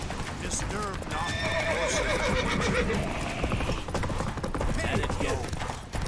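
Roach, the horse in The Witcher 3, gallops with a steady, loud run of hoofbeats and snorts and whinnies over it, while game voices speak at times.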